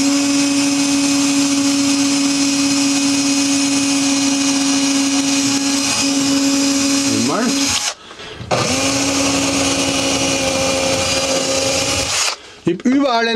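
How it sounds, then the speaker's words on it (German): A power drill with a very thin bit drills pilot holes into a wall, whining loudly and steadily, stopping briefly, then starting again before cutting off near the end. "zum Vorbohren für die vier Löcher, wo man das Kästchen dann an die Wand montiert, da nehmen wir einen ganz dünnen Bohrer"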